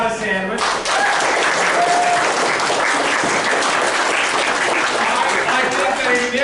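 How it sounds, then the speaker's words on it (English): A packed theater crowd at a fan convention sketch show in Schenectady claps loudly and steadily after a brief opening voice, the dense applause holding strong before easing slightly near the end. "Round of applause."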